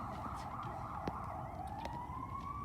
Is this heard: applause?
no